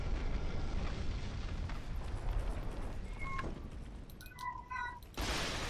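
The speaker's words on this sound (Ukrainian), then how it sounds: "Так, в мене ще кіт м'явкає." A house cat meows several times in short tonal calls near the end, heard over steady game background noise from an old iron volcanic level in a fantasy action game.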